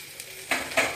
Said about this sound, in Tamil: ஒரு 10 நிமிஷம் வதக்கணும்னா நல்லா வேகும்.